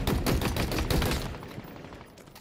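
Rapid automatic weapon fire from Halo Infinite rattles in dense, continuous bursts, loud and close, tapering slightly toward the end with no talking.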